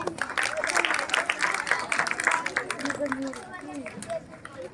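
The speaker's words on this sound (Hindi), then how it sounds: "जोरदार ताली।" Uneven clapping from a school audience follows a student's fiery speech at a flag-hoisting programme, mixed with voices and chatter over the claps.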